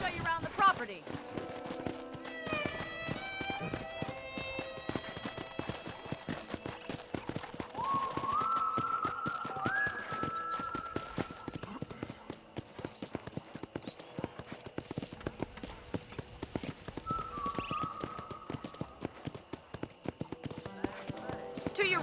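Horse hooves clip-clopping in Red Dead Redemption as a rider trots along, steady rhythmic hoofbeats throughout with a whinny and tonal game sounds and music over them, close and clear.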